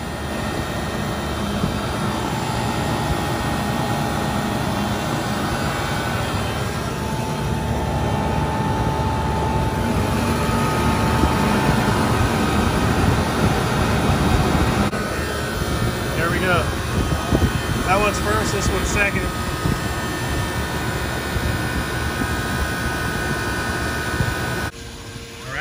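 A 40-ton glycol chiller pumping down gives off a steady, loud mechanical drone with a broadband roar. It runs continuously through the whole stretch, with a person talking over it partway through.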